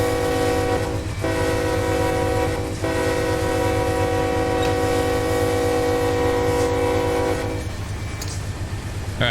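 A locomotive in the Run 8 Train Simulator game drones loudly and steadily with a sustained horn-like chord, briefly dipping twice, engine rumble continuing throughout with no talking.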